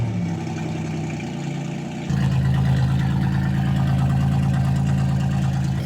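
A car engine fitted with a straight-piped exhaust idles loudly and steadily, with a deep rumble that sounds like a V8. It kicks up to a louder, throatier idle partway through and holds there.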